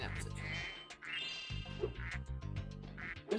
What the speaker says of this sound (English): There's a duck. Oh! Oh, ducks! Ducks!